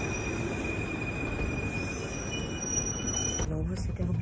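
A Paris metro train running toward Porte Dauphine gives a steady rolling rumble, with high wheel squeal throughout, near and moderately loud. Near the end comes a brief burst of broadband noise.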